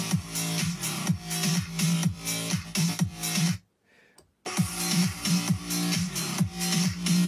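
A sampled song section plays back from a Yamaha PSR-EW410 keyboard, a steady rhythmic loop with a pulsing low beat, briefly cutting to near silence before restarting, loud and close with no talking.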